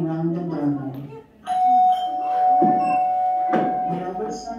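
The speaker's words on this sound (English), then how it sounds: "On the second floor, we rang the doorbell." A doorbell rings in a building, its steady electronic tone sustaining for about three seconds while a voice talks over it.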